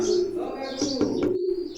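Low, steady cooing from teddy pigeons carries on close by, with light chirps and brief rustles mixed in.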